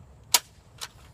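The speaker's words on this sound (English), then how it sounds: "Crossbolt mod test firing on the range." A Nerf Crossbolt blaster with a modified, streamlined replacement cord fires a dart on an outdoor range: one sharp, loud snap, then a softer thud shortly after, with no one talking.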